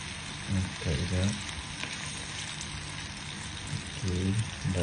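Tuna and salmon sashimi sizzle and crackle steadily in a hot pan, with a voice speaking briefly over the frying.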